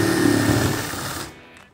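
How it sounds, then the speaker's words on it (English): A power drill bores a hole through the back of a cardboard banker's box, a close buzzing whir that holds for about a second, then cuts off into quiet. "We'll take and we will drill a hole in the back."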